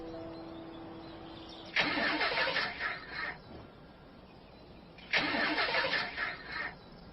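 A car's starter cranks twice in a drama scene, each grinding burst lasting about a second and a half before cutting out without the engine catching, since the car has run out of fuel.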